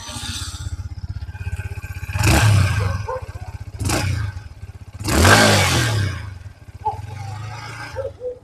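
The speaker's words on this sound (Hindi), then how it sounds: "मैं एक बार आपको एग्जॉस्ट साउंड सुना देता हूँ इस बाइक का" A Yamaha XSR 155 motorcycle engine idles with a steady low exhaust throb, then revs sharply three times in rising bursts before settling back to idle.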